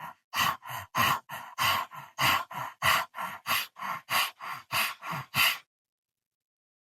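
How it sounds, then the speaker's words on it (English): A person does dog-panting breathwork through the mouth with the tongue out: rapid, rhythmic panting breaths, about fifteen short huffs in steady succession, then silence. "the dog panting breath, we're doing this through the mouth with the tongue out"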